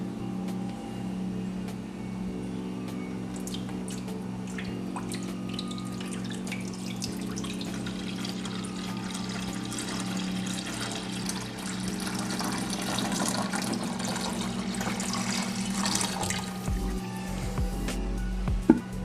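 Steady water running and splashing into a 10-gallon glass tank for the whole stretch, a continuous rushing pour with low rumbling underneath, no voices.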